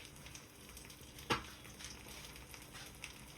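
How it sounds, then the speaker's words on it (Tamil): Curry leaves sizzle as they drop into a pan of crab curry (nandu curry): a soft, steady frying hiss with one brief crackling burst partway through, fairly quiet throughout. "இப்போ நான் ஃபைனலாக வந்து கருவேப்பிலை வந்து அதில் வந்து சேர்க்கிறேன்."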